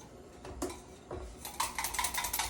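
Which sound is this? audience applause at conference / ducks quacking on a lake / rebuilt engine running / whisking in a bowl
whisking in a bowl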